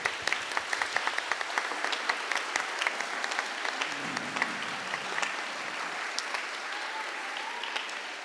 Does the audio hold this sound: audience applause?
yes